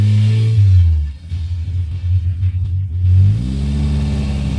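A FIAT 125p engine pulls after a shift into second gear, a loud, low rumble that dips briefly, then climbs again in pitch, heard up close with no talk.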